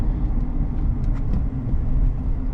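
Chevrolet Silverado Custom Trail Boss 4x4 pickup cruising, a steady low engine drone and road rumble heard from inside the cab, continuous and moderately loud.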